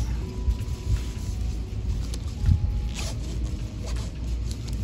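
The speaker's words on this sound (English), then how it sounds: "Unzip." A Peter McKinnon camera bag is unzipped at its 15-inch MacBook Pro compartment. The zipper pull gives a close, steady rasp over a low rumbling background, with no talking.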